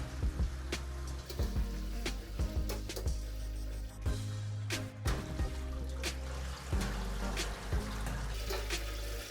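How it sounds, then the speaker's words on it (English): Clear water pours over raw beef livers sitting in a kitchen strainer, a continuous splashing trickle with scattered clinks and taps, moderately close and without talk. "Now I'll add the livers into the strainer and pour some clear water over them."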